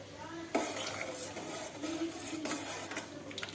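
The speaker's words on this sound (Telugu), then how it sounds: "బాగా మిక్స్ చేసుకోవాలి" A spoon scraping and clinking in a pot while lentils are mixed into a simmering Telugu-style pappu charu dal soup, with soft stirring swishes and a few metallic knocks at close range over a faint background hum.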